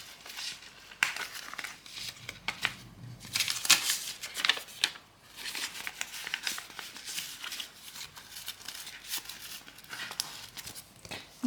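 Paper banknotes rustle and crinkle as they are slipped into a paper envelope, close-up and uneven, with bursts of crackling handling noise and no talk.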